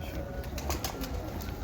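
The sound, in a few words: pigeons of Mistri Fazal Din's breed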